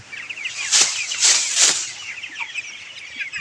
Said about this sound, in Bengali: দেখুন মুরগির বয়স আজকে বাইশ দিন